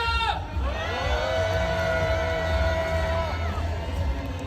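Large protest crowd at a street march against joint US–South Korea war drills, roaring a sustained angry collective shout that swells and holds for a few seconds over steady crowd noise.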